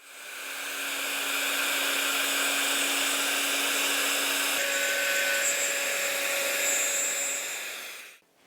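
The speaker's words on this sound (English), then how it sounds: "I can now start doing the first of the proper cuts for this piece of wood" A small router cutter slices through maple with a steady high-pitched whine, running continuously and close, its tone shifting once partway through before the cut stops abruptly.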